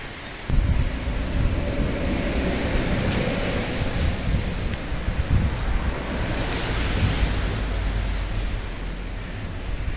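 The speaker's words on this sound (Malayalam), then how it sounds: "കാറ്റും മഴയും തണുപ്പും ഒക്കെ ഇവിടെ നല്ലതുപോലെ ഉണ്ട്" Wind and rain outdoors make a steady, dense roar that holds for the whole stretch at an even level, with gusting wind noise buffeting the microphone and no voices heard.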